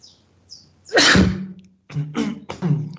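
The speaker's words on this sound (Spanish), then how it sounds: "disculpen que me dio ganas de estornudar." A single loud sneeze from a chemistry lecturer during an online class, preceded by faint breaths and followed by a few short sniffs or throat sounds.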